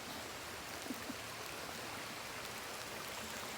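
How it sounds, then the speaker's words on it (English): Big Hunting Creek rushes steadily and evenly, a constant broad watery hiss close by with no other sounds standing out. "Big Hunting Creek runs along it. You can hear it."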